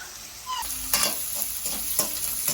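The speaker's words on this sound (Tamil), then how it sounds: "வெங்காயம் நல்லா வதங்குது வதங்கிட்டது" Onions sautéing in a pan, a steady close sizzle with stirring scrapes that pulse through the short stretch, with no voices.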